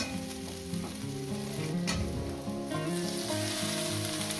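Leafy greens fry in a hot pan for a homemade Bengali vegetable dish, a dense, steady sizzle with occasional stirring scrapes, close and uninterrupted throughout.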